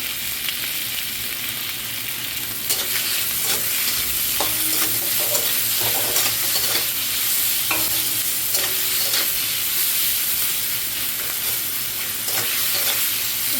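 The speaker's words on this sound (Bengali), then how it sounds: "এবার তেলের মধ্যে পেঁয়াজ দিয়ে দিচ্ছি, পেঁয়াজ দিয়েই করবো বাঁধাকপিটা রান্না।" Onions fry in hot oil for a cabbage dish, a steady close sizzle under repeated scraping and stirring of a utensil against the pan.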